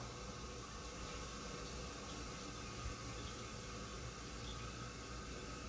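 A toilet tank refills through a faulty fill valve that keeps running instead of shutting off, producing a steady, even hiss of flowing water that neither fades nor stops.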